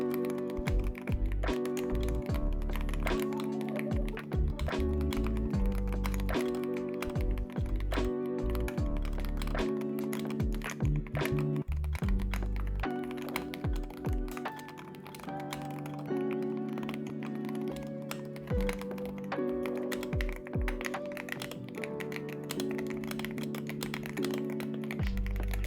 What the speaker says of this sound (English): Enjoy this sound comparison between the steel and the polycarbonate plates.